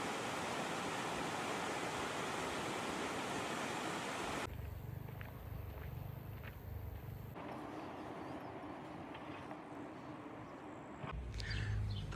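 A mountain stream on the Tour du Mont Blanc trail rushes with a loud, steady broadband hiss for several seconds, then drops to a quieter, more distant water murmur with some low thumps near the end.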